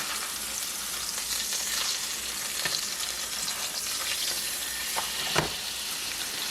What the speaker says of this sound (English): so I'm gonna take my first giant meatball here and mush it in my hot pan